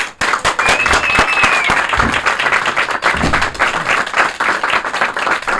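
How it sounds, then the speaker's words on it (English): Audience applause welcoming magician Jerry Andrus, loud and sustained clapping from a full crowd with sharp individual claps standing out near the front, continuing strongly to the end. "How about a gigantic round of applause for Jerry Andrus?"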